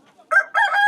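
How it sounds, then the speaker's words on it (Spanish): Rooster at a Korean folk village crows once, a short, bright, fairly close call rising over faint background noise. "Ahí está el gallo"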